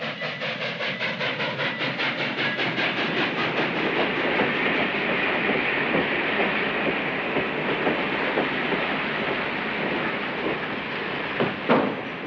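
A moving train in a 1955 comedy film gives a loud, steady clickety-clack rumble with a continuous hiss running throughout, and no voices over it.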